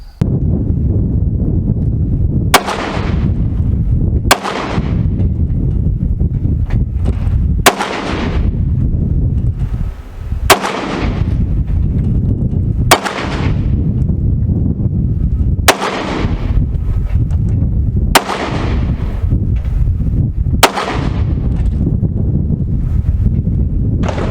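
Nine sharp, loud gunshots from a PSA Rock 5.7 pistol during accuracy testing outdoors, spaced a couple of seconds apart, each followed by a short ringing decay, over constant wind noise.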